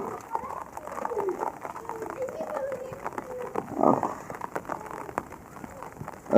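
Rain falls outdoors in a soft, steady patter, with someone talking over it and birds cooing faintly now and then.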